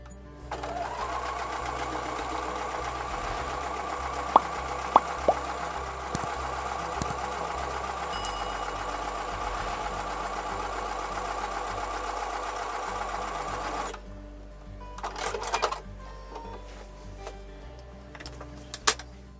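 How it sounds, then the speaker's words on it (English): A sewing machine stitches quilt block seams, a close, steady mechanical whir running for most of the stretch with a few small clicks, then stopping and giving way to brief handling noises. "So I'm going to take it back over to the sewing machine and sew the last two seams of"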